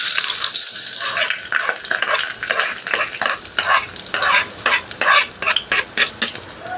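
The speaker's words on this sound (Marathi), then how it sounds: "सो कांदा चांगला लालसर होईपर्यंत परतून घ्यायचा" Finely chopped onion sizzles in hot oil while a utensil stirs it in rhythmic scraping strokes, the frying hiss rising and falling with each pass, close and clear with no voices.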